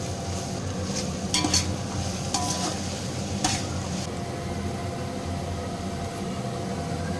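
Ginger garlic paste fries in a pot for chicken biryani, giving a steady close sizzle throughout with a few scraping stirs of a spoon early on.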